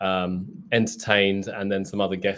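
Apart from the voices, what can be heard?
No everyday noise stands out behind the speech.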